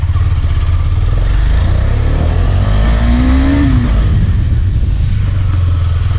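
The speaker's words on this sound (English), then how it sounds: "Now I'll do the braking test." A Husqvarna or KTM Duke 250 motorcycle with dual-channel ABS runs loudly at speed and slows under braking. The engine note sweeps up then drops away, with a brief whine as it settles.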